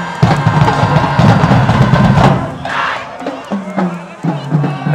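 Crowd noise at a high school varsity football home game, a dense roar of many voices and shouts filling the first half, then thinning to scattered calls and chatter as the energy drops.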